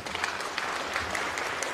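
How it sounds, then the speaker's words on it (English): Brief applause from an audience at a Pacific youth awards ceremony, a moderate, even patter of many hands clapping at a steady level. "A round of applause for Janelle Augsburg."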